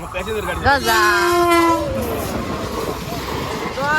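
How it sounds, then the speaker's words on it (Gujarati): A train horn sounds with a bending tone, followed by the rumble of a train going by, while a person talks over it. "મારી રેલગાડી છે ને આ સાઈડ થી આવે છે"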